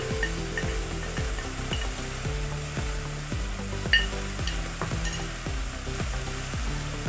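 Spices for Amritsari chole, including coriander and cumin powder, sizzle and fry in a pan while a utensil scrapes through them in steady, repeated strokes, close and continuous with no talk.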